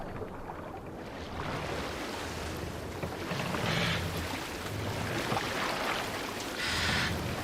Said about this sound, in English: We must row in these waters.